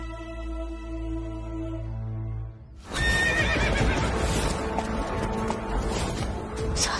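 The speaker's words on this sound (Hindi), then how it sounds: "हमारे राहु आ गए, विजय होकर आ रहे हमारे पास, घोड़े पर सवार होकर चौकट तक पहुंच गए।" A horse gives a long, clear whinny, then loud clopping hooves and movement take over, close and busy, in the setting of a Hindi historical TV drama.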